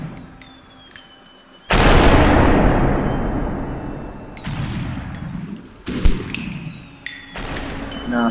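Gunfire in the Superhot video game booms loudly, one big blast followed by a long decaying roar, then several more sharp shots and bursts scattered through the rest of the moment.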